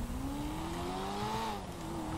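A car in a video game with poor handling, its engine drone rising in pitch and then dropping back as it drives steadily, loud and continuous with no talk over it.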